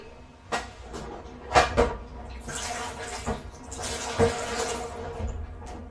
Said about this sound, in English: Let me now get the water and just wash briefly.